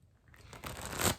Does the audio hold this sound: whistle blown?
no